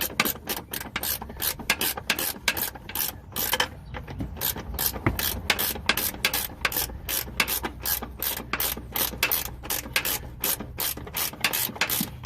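A hand ratchet snugging the upper control arm bolts on a 2002 Honda Accord, steady rapid clicking of the pawl in quick repeated strokes, close and loud with no talk.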